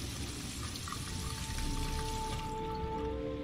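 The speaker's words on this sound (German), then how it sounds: "Bisschen Wasser ins Gesicht." Tap water runs and splashes in a sink as a character rinses his face in the video game Heavy Rain, a steady close wash of water that eases off near the end, with no speech.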